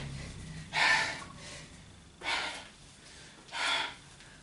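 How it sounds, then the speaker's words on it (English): Three heavy, forceful breaths spaced a second or so apart, close and loud, like panting during exercise. "Big breaths. I want to hear you breathing through the TV."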